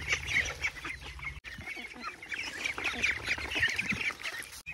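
A flock of ducklings about a month and a half old, being fed grain, gives a continuous chorus of high, overlapping peeping calls, close and busy throughout.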